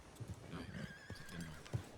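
Horse in a western video game whinnying with a drawn-out neigh, accompanied by a few soft hoof clops, heard fairly close and quiet.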